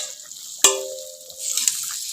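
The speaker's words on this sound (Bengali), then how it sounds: "ভেজে রাখা মাছগুলো দিয়ে দেব।" Fried snakehead fish pieces drop into a simmering potato curry in a home kitchen, giving two sharp splashing hits followed by a soft sizzle and bubbling, close and alone without talk.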